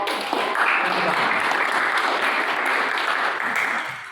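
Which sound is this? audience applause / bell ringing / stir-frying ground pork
audience applause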